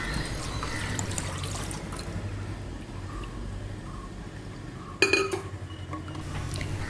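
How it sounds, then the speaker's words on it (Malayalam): Coconut water is poured into batter and stirred in a bowl, soft wet sloshing and dripping with a sharp clink of a utensil against the dish near the end. "നമുക്കിനി ബാക്കിയുള്ള തേങ്ങാ വെള്ളം കൂടി ഇതിലേക്ക് ഒഴിച്ച് കൊടുക്കാം എന്നിട്ട് നന്നായിട്ട് ഒന്ന് ഇളക്കി കൊടുക്കാം"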